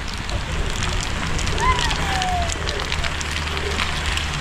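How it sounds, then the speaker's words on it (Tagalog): Heavy rain pours during a mountain bike ride up a steep road toward Baguio, a dense steady hiss mixed with wind buffeting the microphone, continuous throughout, with faint voices underneath. "Malakas na naman ang ulan."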